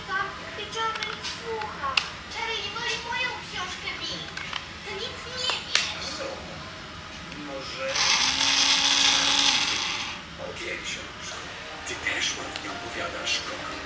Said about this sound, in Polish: Teraz wiercimy.